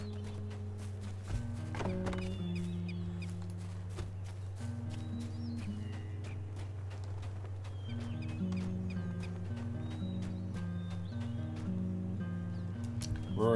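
Chicken clucking in a video game, repeated short clucks over a steady tonal game soundtrack, fairly loud and close, with no talking.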